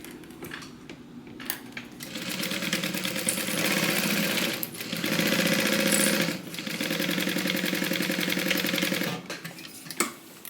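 A sewing machine stitches a divider bag in long steady runs, its fast mechanical whir broken by two brief pauses where the needle stops, then a faint click at the end.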